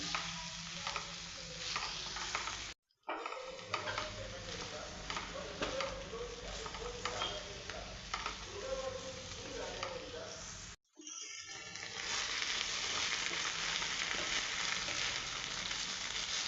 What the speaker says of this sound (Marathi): एकदम व्यवस्थित भाजून घ्यायचं ह्याचं कच्चं पण गेलं पाहिजे